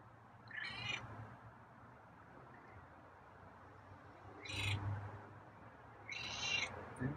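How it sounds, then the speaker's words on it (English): Three short, high chirping meows from a feral cat being tamed, spaced a few seconds apart, over a steady low background hum. "It's kind of a chirpy meow."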